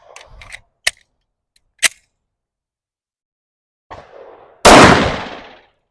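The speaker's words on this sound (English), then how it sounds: "now let's shoot the Tanfoglio with this AAC ammunition" A Tanfoglio 10mm pistol fires AAC ammunition, a single sharp loud shot near the end with a decaying tail, preceded by faint clicks and handling noises.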